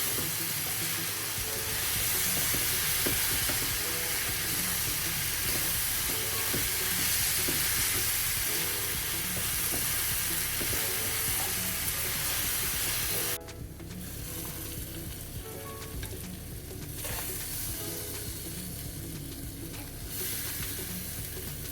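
Vegetables, including bruised tomatoes, stir-fried in a pan for a family breakfast, giving a loud, continuous sizzle with stirring and clattering throughout, the tone briefly changing partway as the mix is moved.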